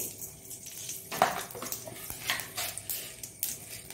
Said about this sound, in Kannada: ಇದಕ್ಕೆ 1-2 ಸ್ಪೂನ್ನಷ್ಟು ಎಣ್ಣೆ, ಸ್ವಲ್ಪ ಸಾಸಿವೆ